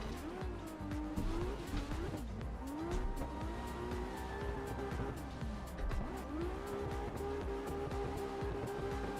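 A car in a drifting video game hits a wall amid continuous engine whine and long tire squeals, with revs rising and falling and sharp transient knocks through the loud, steady racing noise.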